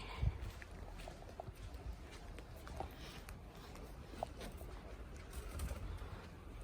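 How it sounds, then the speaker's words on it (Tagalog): Faint cooing of a dove or pigeon somewhere outdoors near a swimming pool, soft and low beneath a steady background of wind and rustling noise. "uy, may ibon."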